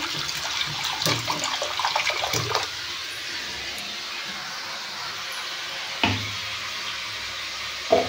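Water pours into a cooking pot while a pumpkin vegetable dish is being made. A loud rushing splash comes first and then fades to a quieter trickle, with a brief second splash near the end.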